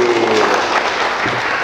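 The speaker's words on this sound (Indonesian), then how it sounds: "tepuk tangan lagi" Studio audience applause during a religious talk show, a continuous wash of clapping with a faint voice or tone briefly underneath.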